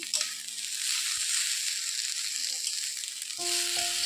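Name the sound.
rice and lentils frying in a pan for khichuri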